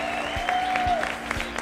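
Audience applause at a televised talk-show segment on youth and women's entrepreneurship in Kasaï-Central, a moderate patter of hand claps under a faint whistling tone and room hum.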